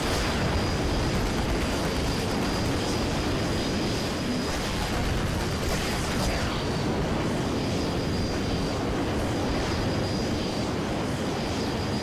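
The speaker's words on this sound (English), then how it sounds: "Ignore the artillery, push through." Artillery explosions in the multiplayer shooter Renegade X, a continuous loud roar of blasts and rumbling battlefield noise with a steady high whine, no clear pauses.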